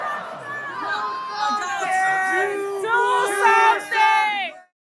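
A rally crowd bellows and whoops at a speaker, a swell of overlapping shouts and cries rising in waves, fairly close and loud, before cutting off abruptly.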